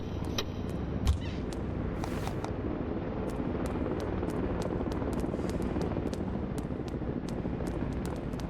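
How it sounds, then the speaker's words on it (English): Helicopter in Night of the Dead: a steady, muffled rotor drone persists throughout, fairly distant and even, with a brief thump early on. "Oh, it's a helicopter."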